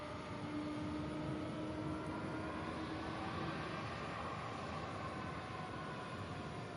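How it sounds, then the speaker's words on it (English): An MD-11 taxiing to the UPS ramp at Louisville's SDF airport, heard as a low, steady engine drone with a faint whine layered on top, distant and even for several seconds, no talking. "this MD-11 makes its way to the UPS ramp"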